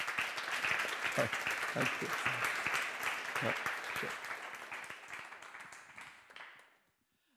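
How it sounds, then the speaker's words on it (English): An audience at a Nordic resilience summit applauds steadily, claps thinning and fading out over several seconds while a voice briefly speaks. "With applause, please."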